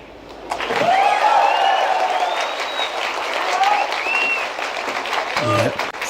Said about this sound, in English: Wait for the applause here.